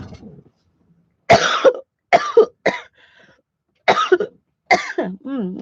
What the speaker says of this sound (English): I swallowed wrong and now I'm sitting here trying not to choke.